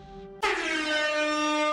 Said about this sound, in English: she has an air horn in her hand